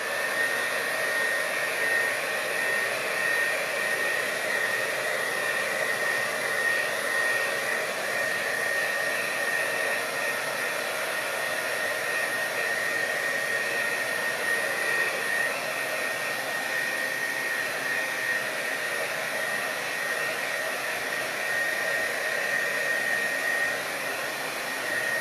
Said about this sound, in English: just that little breeze with my hair dryer